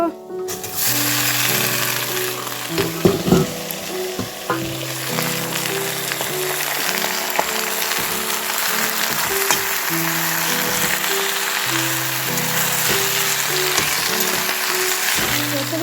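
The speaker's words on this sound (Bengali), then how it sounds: "দেখতে পাচ্ছ তেল একটু দিয়ে তারপরে সবজিগুলোকে একটু ভাজা ভাজা করে নিয়েছি" Vegetables frying in a little oil in a home kitchen, a steady sizzle running throughout with scattered clinks and stirring noises, and someone speaking over it at times.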